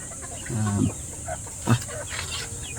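A pikom gamefowl rooster gives a couple of short, fairly close clucking calls, a longer burst near the start and a brief one later, over a steady hiss.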